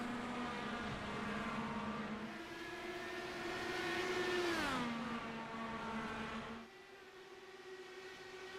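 Race cars roar past on a track after the green flag, their engines screaming loud and steady with a pitch that rises and then drops as they pass, before the sound settles into a softer distant drone.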